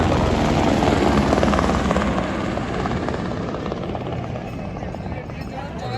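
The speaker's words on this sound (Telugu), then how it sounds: "హెలికాప్టర్ కూడా" A helicopter passes overhead along the Amarnath Yatra pilgrimage route in snowy mountains, its loud, dense rotor and engine roar filling the air and gradually easing as it moves away.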